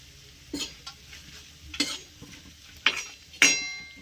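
Food is stir-fried in oil in a pan for a quick Marathi breakfast with mutton, giving a faint low sizzle broken by four distinct scraping clatters of a spatula against the pan.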